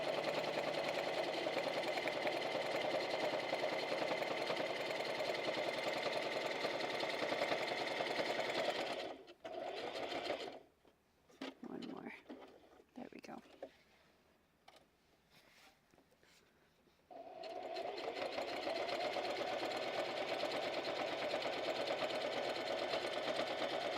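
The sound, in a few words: sewing machine stitching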